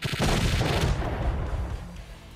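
Underbarrel grenade launcher firing and exploding in S.T.A.L.K.E.R.: Shadow of Chernobyl, a loud burst of booming gunfire-like blasts that fades over about two seconds, with no talking.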